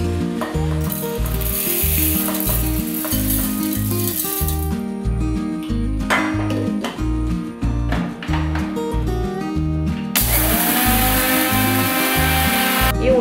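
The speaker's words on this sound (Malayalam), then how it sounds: "ഇനി നമുക്കിത് മിക്സിയിൽ ഇട്ടിട്ട് നന്നായിട്ടൊന്ന് പൊടിച്ചെടുക്കണം." Mixer grinder grinding soaked urad dal in a kitchen, a loud steady whirring drone with rattling and chopping texture that runs throughout, surging brighter near the start and end.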